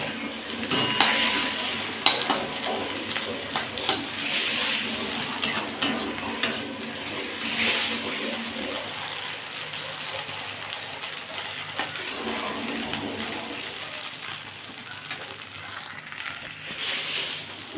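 Egg with onion scrambled and frying in a pan, with a continuous close sizzle and repeated scraping and tapping of a utensil against the pan.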